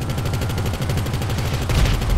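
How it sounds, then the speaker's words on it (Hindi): Rapid automatic gunfire in GTA rattles continuously in a fast, steady burst, loud and close, with heavier blasts toward the end and no talking. "वहां से गोली चलाता है"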